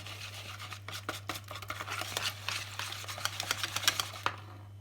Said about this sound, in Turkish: Bunu bir güzel çırpıyorum.